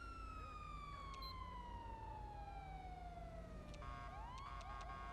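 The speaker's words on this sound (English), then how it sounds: "to turn on your siren, press G and it will turn on your siren" Police siren from a video game emergency lighting mod, a long descending wail that drops in pitch and then switches to a faster yelp near the end, loud and steady with no talking.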